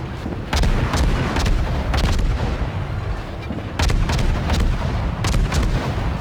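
Warship main guns fire in repeated salvos during a World of Warships naval battle, loud booming volleys in clusters over a steady low rumble, no talking.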